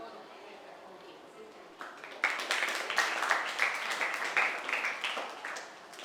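An audience at a school World Literacy Day event with teachers and students bursts into applause, a dense burst of clapping that starts after a couple of seconds of murmur and carries on to the end.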